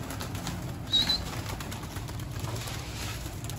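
Pigeons at their coop, with a brief flutter of wings and soft calls over a constant outdoor background hum.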